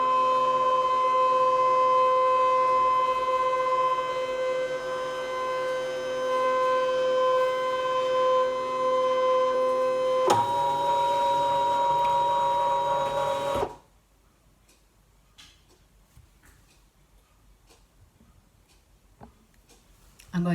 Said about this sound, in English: So I'm going to go to scan, direct cut, machine,